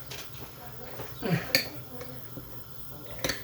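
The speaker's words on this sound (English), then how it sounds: "let's give that a good stir now" Orange and chipolata sauce is stirred in a pot, with a few sparse metallic clinks and scrapes of a utensil against the pan, close and fairly quiet.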